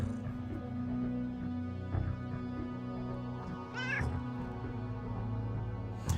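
A cat in the video game Underrail meows, a rising, drawn-out cry near the middle, set over a steady droning game ambience.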